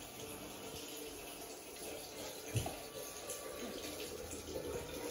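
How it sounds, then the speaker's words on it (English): Tap water runs steadily into a sink while a toothbrush is rinsed under it, a soft continuous splashing stream with a small knock partway through. "No, rinse your toothbrush off."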